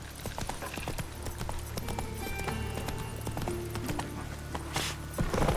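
Roach, a horse in the video game The Witcher 3, gallops in a quick, steady run of hoofbeats, moderately faint, with game music and ambience beneath.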